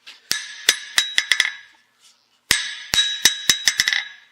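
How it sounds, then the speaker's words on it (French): A hammer rings against a steel anvil in two bursts of sharp, bright strikes, each run of about six blows bouncing in quickening rhythm, close and loud with short metallic decays and quiet gaps between. "les enclumes en acier vont permettre au marteau de rebondir un peu plus"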